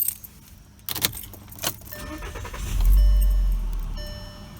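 A 2010 Volkswagen Jetta SportWagen 2.5 SE is started: keys jingle and click near the ignition, then the engine cranks and catches, settling into a steady, fairly loud idle close by.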